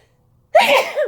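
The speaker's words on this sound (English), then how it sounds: "I'm gonna sneeze" A single sharp human sneeze, loud and close, bursting suddenly out of near silence and trailing off within about half a second.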